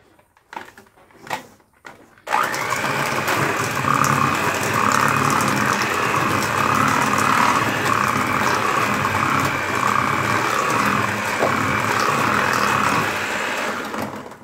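An electric mixer whirs steadily for over ten seconds through peach and cream cheese coffee cake batter, a loud, even motor drone that starts abruptly after a few soft knocks and clatters.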